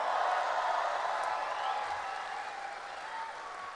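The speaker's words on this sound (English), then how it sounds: "Give them another round of applause." Applause from the audience at a 2012 West End Eurovision show, a steady wash of clapping that fades slightly toward the end, with no voices standing out.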